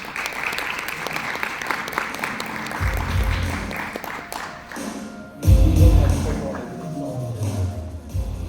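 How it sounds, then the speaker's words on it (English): Audience applause for panelists at the Green Economy Forum 2025 on sustainable futures in Vietnam, a loud, sustained wash of clapping from a seated crowd with a few heavy thumps and a brief swell near the end. "give an applause to yourself and our panelists"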